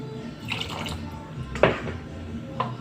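Water poured into a pot over peaches while making homemade peach yogurt: a few separate splashing pours and drips, close and moderately loud in a quiet kitchen.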